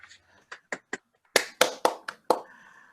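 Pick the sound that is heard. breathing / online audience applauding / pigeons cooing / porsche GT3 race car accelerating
online audience applauding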